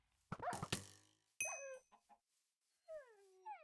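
Chickens in the Minecraft video game cluck in short bursts, with a quick cluster of sharp calls followed by a few softer, scattered clucks.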